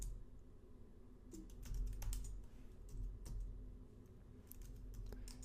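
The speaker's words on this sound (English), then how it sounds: "we type passwd" Someone typing a Linux terminal command on a computer keyboard, a quiet run of soft key clicks and taps, faint and close against a low background hum.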